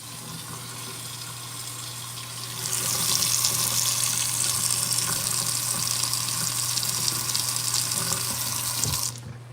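Hot water gushes steadily from a tap in a newly built two-bedroom apartment, the broad rushing flow swelling louder after a few seconds and holding strong until it cuts off near the end, with no talking.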